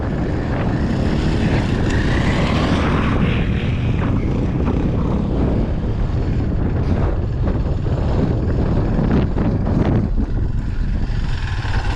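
Two-stroke dirt bikes climbing a desert trail in the Negev, a loud, dense engine roar with throttle changes that stays steady throughout, close up, with no voices.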